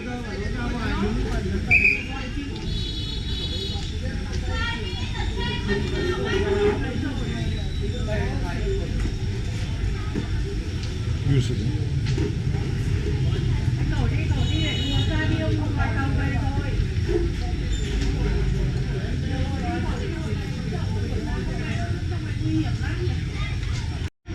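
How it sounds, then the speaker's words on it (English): A train rumbles low and continuously as it draws closer along a narrow street in Hanoi, Vietnam, while people talk over it nearby. "the train coming now. Train coming now."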